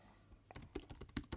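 Quick keystrokes on a computer keyboard while filling in an online form, a short burst of about a dozen crisp clicks, close and quiet, with no voices.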